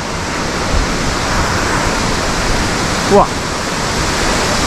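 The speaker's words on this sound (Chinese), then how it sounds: "好，到瀑布" A waterfall at Tiger Leaping Gorge roars as a dense, unbroken wash of falling water, close and loud, with a single short voiced exclamation cutting in near the end.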